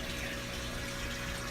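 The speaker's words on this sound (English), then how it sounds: "I've got a Mag Drive 9 pump in there" Mag Drive 9 aquarium pump circulating and mixing salt water in a basement sump system, a continuous rushing, humming wash of water heard alone at a steady level.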